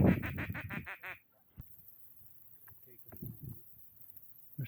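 Ducks give a quick burst of about six loud nasal quacks during a bird hunt in North Dakota. Quiet outdoor sound follows, with soft voices and faint movement.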